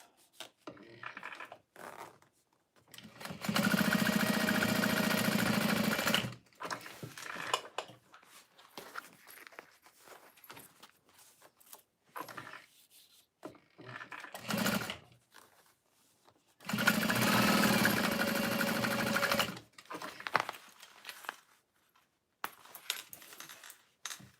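A sewing machine stitches waterproof canvas pouches in two long, steady runs of close, loud whirring, separated by quieter handling and rustling of the fabric.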